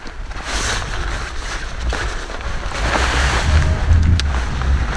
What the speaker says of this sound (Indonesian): kondisi terbuka kayak gini, angin kencang